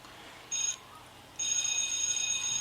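An electronic school bell in the Avatar World video game rings in two short bursts, the second one longer and steady, fairly faint against a quiet background.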